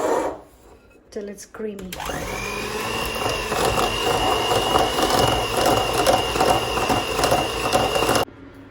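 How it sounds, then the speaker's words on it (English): A whisk beats 200 grams of white caster sugar in a mixing bowl, with a brief voice at the start followed by a steady, close mechanical whirring and rattling that continues for several seconds. "now I am just going to whisk this"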